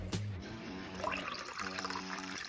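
The rest of a canned drink is poured into a container, a faint soft trickle and gurgle of liquid running steadily for a couple of seconds.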